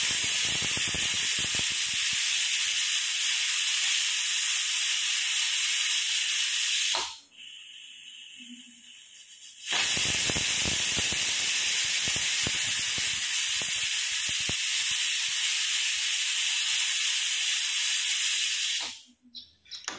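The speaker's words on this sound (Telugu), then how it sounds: "చూశారు కదా, 2 విజిల్స్ వచ్చాయండి" A pressure cooker on a home stove lets out a loud, steady hissing whistle of escaping steam that runs for several seconds, breaks off briefly, then goes on hissing for a long stretch.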